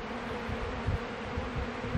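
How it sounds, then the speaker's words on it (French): Honeybees buzzing on a hive frame, a dense steady hum of many bees close by with no voices. "On a des abeilles qui ont du pollen à leurs pattes, qui sont présentement en train de danser"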